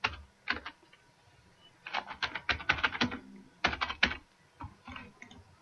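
Quiet bursts of clicking keystrokes on a computer keyboard, irregular runs of taps separated by short pauses, close and soft with no speech.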